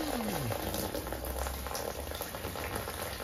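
Water pours steadily into a koi pond being filled, a continuous bubbling, splashing rush heard up close with no one speaking.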